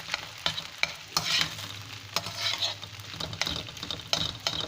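Lemon rice (chitranna) being mixed with a spoon in a vessel: quiet, close scraping strokes come in irregular bursts over a soft background hiss.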